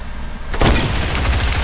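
Sniper gunfire in a video game, a single sharp loud shot bursting in after a quiet moment and ringing out with a rumbling tail.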